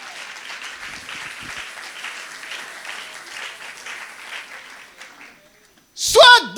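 A church congregation at a faith gathering breaks into sustained applause and cheering, a broad steady wash of clapping that fades out, followed by a brief loud burst of voice.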